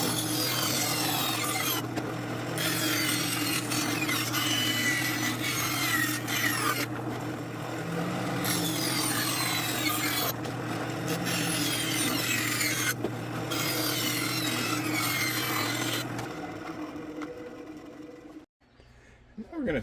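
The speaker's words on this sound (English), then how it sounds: "I'm going to have to go and cut this by hand and not mess it up" Hand cutting of a holster mold, a steady broadband rasping and sawing scrape that runs continuously with brief pauses over a low workshop hum, then stops near the end.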